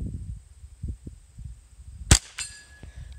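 A Ruger 10/22 rifle's bolt is let go and slams forward to chamber a round from a magazine fitted with a Mall Rat sled and Louse Lips tray: one sharp, loud metallic clack, then a quieter rattle, amid low handling rumble.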